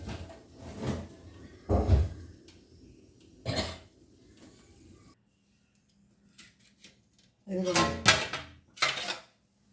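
A metal cooker mesh is set onto a kitchen gas stove for roasting brinjal, giving several sharp metallic clanks and clatters in scattered bursts with a quiet pause between, close by.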